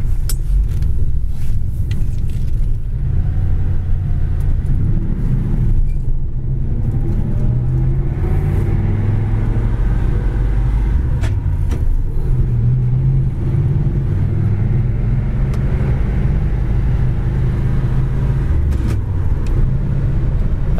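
A 1949 Ford Coupe engine rumbles steadily at close range while the car drives along, its low drone rising and falling slightly through gear changes, loud and continuous with no voices.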